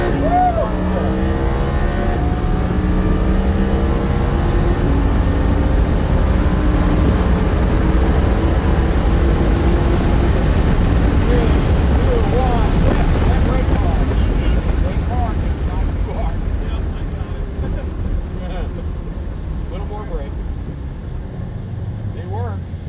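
A V10 Lamborghini driven on an F1 track, its engine a steady loud roar with wind buffeting, rising and falling as it accelerates and coasts, under an instructor's continuous coaching.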